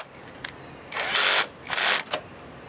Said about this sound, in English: I'm gonna screw it in with the drill